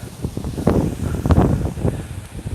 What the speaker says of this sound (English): that wind is windy